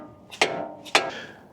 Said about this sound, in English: Use a hammer, and it's good.